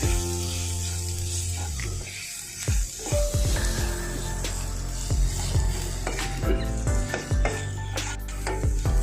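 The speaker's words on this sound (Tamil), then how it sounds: "சும்மா ஒரு 2 நிமிஷம் சிம்ல வச்சு வதக்கிக்கோங்க" Roasted masala spice powder sautéing over low heat in a pan for Kerala-style kadala curry, a steady soft sizzle broken by repeated scraping and clinking as a spoon stirs against the metal.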